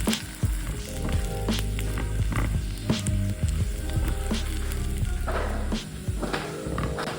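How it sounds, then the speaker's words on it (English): Onions caramelizing in a pan, sizzling steadily up close, with occasional crackles, pops and scraping of a utensil stirring them, no talking. "We want to make sure our onions are totally caramelized"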